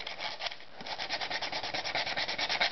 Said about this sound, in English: you're gonna take the sandpaper and just soften up the edges